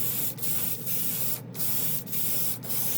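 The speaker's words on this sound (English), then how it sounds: "It gets no bubbles, no roughness at all when I spray it." Bursts from a spray gun laying down a Chrome-Plus varnish top coat over gold chrome at 20 PSI, a steady close hiss broken by several brief pauses where the trigger is released.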